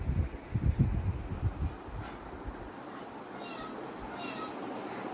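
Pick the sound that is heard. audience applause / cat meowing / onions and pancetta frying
cat meowing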